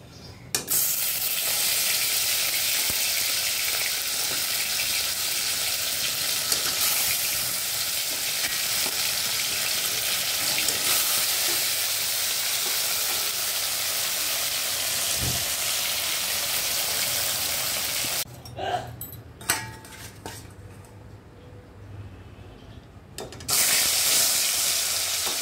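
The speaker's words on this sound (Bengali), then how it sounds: "মাছগুলো ভেজে নেব।" Rohu fish pieces frying in hot oil in a pan, a loud, steady crackling sizzle that runs unbroken for most of the time before dropping briefly and then returning at full strength.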